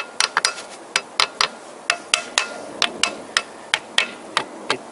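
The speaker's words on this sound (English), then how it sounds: "hammering." A small hammer taps out the crankshaft bearing plates on a Vauxhall/Opel Astra engine being disassembled: about twenty sharp, close metallic blows in a quick, uneven rhythm, with no talking.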